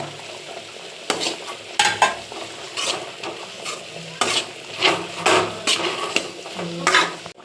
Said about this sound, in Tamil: நல்லா வதக்கணும். கிழங்கு போட்டுக்கலாம்.